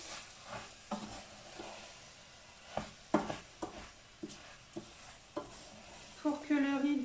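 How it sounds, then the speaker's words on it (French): Rice with chorizo, lardons and leek is stirred in a pan, a soft sizzle under irregular scraping and clacking of a spoon against the pan, close, with a brief tonal clink at the end. "je mélange le tout."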